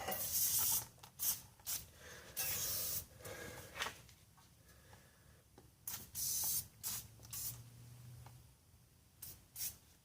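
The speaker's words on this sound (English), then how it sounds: "We'll go ahead and spray his hub down too." Repeated bursts of penetrating spray hissing from an aerosol can onto a rusty front hub of a Dodge Ram 2500/3500 6.7 Cummins truck, short blasts separated by pauses, close and fairly quiet.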